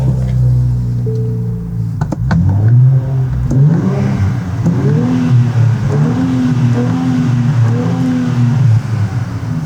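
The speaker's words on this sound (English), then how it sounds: "let's get some stock exhaust sound real quick" A 2023 Nissan Z engine revs repeatedly through its stock exhaust, rising and falling in pitch with several throttle blips, loud and close.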